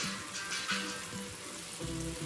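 Onions frying with carrots in a pot for Turkish lentil soup, a soft, steady sizzle with faint low clatter, quiet and close, with no voices.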